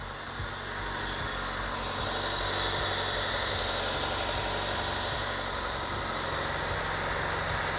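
A car engine running with no oil idles steadily close by, a continuous droning rumble with a faint whirring hum and a regular low pulsing.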